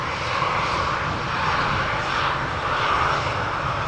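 An airliner's engines roar steadily at Amsterdam Schiphol Airport, a loud, broad, continuous jet rumble that holds level throughout with no voices.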